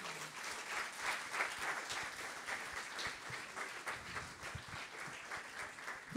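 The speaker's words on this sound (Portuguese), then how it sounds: "dê uma salva de palmas a Jesus." A church congregation applauds during a couples' worship service, steady sustained clapping from many hands filling the room at moderate volume, with no talk over it.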